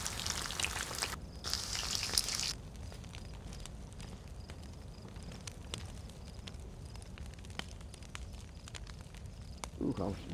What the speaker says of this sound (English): Ooh, how noisy, huh? All the sizzling.